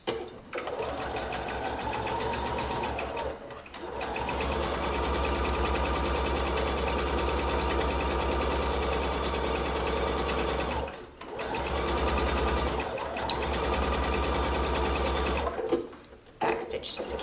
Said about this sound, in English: now we're going to sew the other side, down the other side